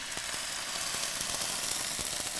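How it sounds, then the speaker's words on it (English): White wine hitting a hot pan to deglaze it, producing a steady, loud, close sizzle with faint crackles throughout, no voices. "to deglaze it with some white wine"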